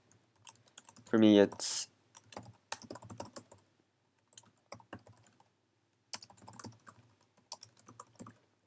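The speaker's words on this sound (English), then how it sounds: "And now you have to type in the directory of your folder." Typing on a computer keyboard in irregular bursts of quiet, close key clicks, with a brief loud burst of a voice near the start and silent gaps between keystrokes.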